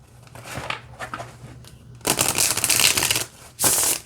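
An oracle card deck of Novice Witches is shuffled by hand up close: lighter riffling first, then two loud, dense bursts of fluttering, rustling cards separated by a short pause.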